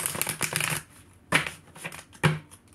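Tarot cards being shuffled: a quick run of riffling flutters followed by two separate sharp card snaps, close and fairly quiet.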